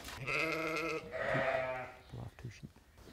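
Sheep bleat loudly and close by, two long wavering calls back to back, on a farm after a hoof foot bath, followed by shorter bleats and some shuffling noises.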